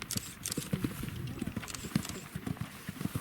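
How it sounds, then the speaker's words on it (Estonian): Hooves of a horse clip-clop in a steady rhythm as it sets off on the cross-country course of an eventing competition, with an announcer's voice talking over the hoofbeats. "Krossile startis Andres Tsirk, hobusel Albatsino"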